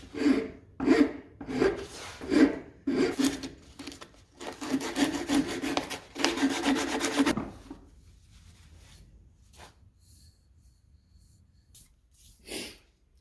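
A wood rasp files a wooden handle for an old roughing gouge in repeated rough strokes, a rhythmic close scraping that runs fast and continuous, then slows to a few sparse strokes and light handling noises.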